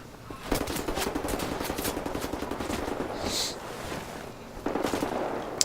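Rapid automatic gunfire from a first-person shooter, Wolfenstein: The New Order, rattles steadily and loudly throughout, with a brief lull before a second burst near the end.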